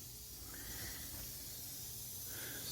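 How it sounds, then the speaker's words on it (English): Steady continuous hiss of air leaking from an air compressor, moderately faint and unbroken throughout. "the noise is just the air leak from my compressor"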